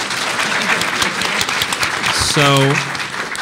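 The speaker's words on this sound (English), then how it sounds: "Oh, you don't need to clap for that." Audience at a comics and libraries panel giving a brief burst of clapping, close and lively, with people speaking over and around it.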